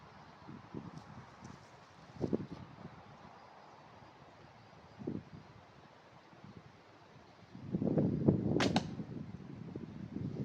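An arrow is handled and shot from a Korean bow outdoors, with soft scattered scrapes and taps followed by a louder burst of rustling and clatter, all under steady wind noise.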